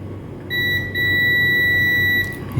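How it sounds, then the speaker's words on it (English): A multimeter in continuity mode, testing an induction cooker, gives one steady high-pitched beep lasting almost two seconds with a brief dip near the start, clear and close over a faint background hum. "I'm gonna check with my multimeter with continuity test."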